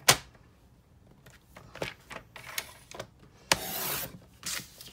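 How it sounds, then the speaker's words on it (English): Cardstock paper is cut on a Stampin' paper trimmer, heard as a series of short, close scraping and clicking strokes followed by one longer rasping slide of the blade, with no talking. "I'm cutting it on my Stampin' trimmer."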